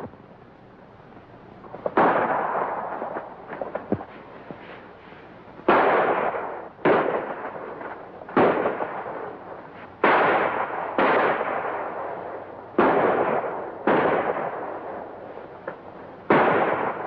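Gunfire in a 1938 western film, about a dozen sharp, loud shots at irregular intervals, each ringing out with a decaying echo over a quiet background.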